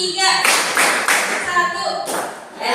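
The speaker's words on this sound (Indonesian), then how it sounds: "Tepuk 1, tepuk 2, tepuk 3" High school students clap together in a counted rhythm in a classroom, producing several loud clustered bursts of clapping with short gaps and voices mixed in.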